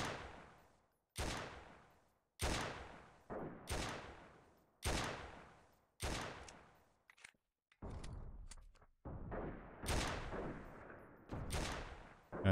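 Gunfire in the game Freeman: Guerrilla Warfare: a string of separate sharp shots, each followed by a decaying echo, coming every second or so, then denser overlapping bursts near the end.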